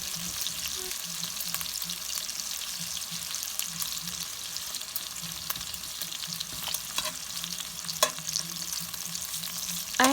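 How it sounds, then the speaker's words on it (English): Bacon pieces fry in a pan over a medium flame, with a constant close sizzle and crackle, occasional stirring scrapes and light pops. "the bacon cooks up better when you cook it a little bit lower"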